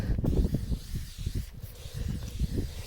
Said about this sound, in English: Just spray it uniformly on there.